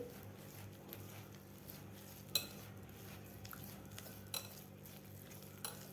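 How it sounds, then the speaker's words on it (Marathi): Sugar and ghee whisked by hand in a bowl for stovetop nankhatai, a faint continuous scraping and stirring with occasional soft clicks of utensil against the bowl, no voices. "आपल्याला हे चार ते पाच मिनिट साखर आणि तूप व्यवस्थित फेटून घ्यायचं आहे आपल्याला या हातानेच फेटायचं आहे"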